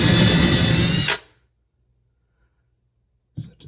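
A power drill bores a hinge hole into an Ikea PAX cabinet door, whirring loudly for about a second and then stopping abruptly, followed by silence and a short faint clatter at the end.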